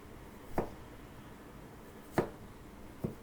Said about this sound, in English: And then we'll take a few slices of the ginger